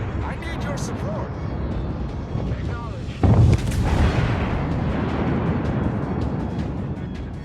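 Naval guns fire in World of Warships battle, a sharp heavy boom near the middle standing out over a constant roar of game sound and overlaid chatter from players.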